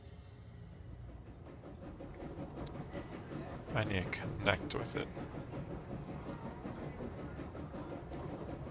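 A train ride inside the video game Control gives a steady rumbling, rhythmic rail clatter that swells briefly mid-way, heard under someone talking.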